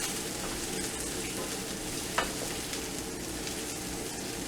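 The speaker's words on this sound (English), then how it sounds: "Cooking the onions until they're translucent." Onions sizzling in a pan while cooking down for homemade spaghetti sauce, a dense even crackle throughout with one small clink, fairly quiet and steady, no voices.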